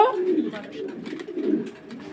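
Pigeons cooing at a pigeon farm, low throaty coos rising and falling in a couple of waves while a person talks over them nearby.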